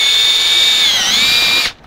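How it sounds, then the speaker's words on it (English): A power drill bores a hole in wood, a loud, steady high motor whine close by, dipping briefly under load before the trigger releases and it cuts off abruptly. "I drilled my holes in the wrong spot, so I gotta drill another one"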